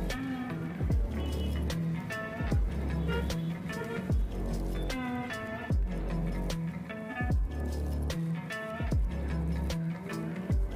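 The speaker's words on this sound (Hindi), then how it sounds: "उसे पाम से अच्छे से स्मैश कर देंगे" Paneer is mashed by hand with the palm in a kitchen, a series of soft, repeated squishing presses at an irregular, roughly steady rhythm, close and fairly quiet.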